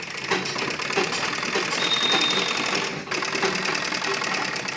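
A sewing machine stitches a folded suit lining, running in a fast, continuous mechanical whir with a brief pause partway through, close and fairly quiet.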